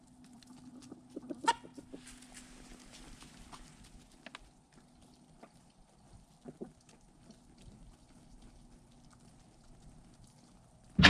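Backyard homestead chickens cluck in short, scattered bursts, a couple of sharper calls standing out early, with quiet stretches and light shuffling in between.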